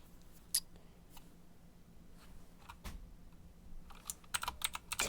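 Keys tapped on a computer keyboard while entering a website title in HTML, scattered faint clicks that quicken into a denser burst of typing near the end, close and alone with no voice.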